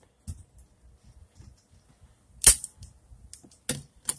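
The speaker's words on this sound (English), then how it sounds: "Fine, let's shoot Co-Wall in the face. Oh, I got my gun" A toy gun fires a few sharp, isolated pops, spaced unevenly with quiet gaps between, the loudest crack midway and two more near the end, with no talking.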